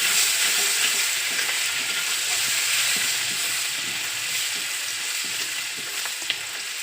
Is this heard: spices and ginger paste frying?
yes